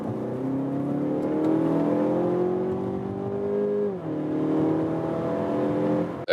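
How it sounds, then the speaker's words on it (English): A 2016 Mazda6 sedan's 2.5-litre petrol engine revs hard and climbs steadily in pitch accelerating from 50 to 110 km/h, dips briefly at a gear change, then keeps climbing; loud and close, no voices. "the engine was really screaming, crawling for RPMs"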